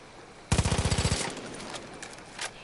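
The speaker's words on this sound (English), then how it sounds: "Shoot the fucking water." Far Cry 5 gunfire aimed at water: a sudden rapid burst of about a dozen automatic shots lasting under a second, followed by a few faint splashes and scattered impacts.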